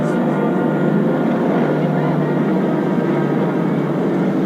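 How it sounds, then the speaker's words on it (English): Apache military helicopters pass overhead during a flyover at a patriotic celebration at the White House, a loud steady rotor and engine roar filling the whole stretch without pause. "Overhead now, we see the Apache helicopters,"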